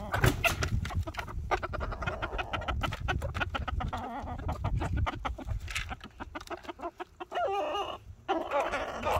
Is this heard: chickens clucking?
yes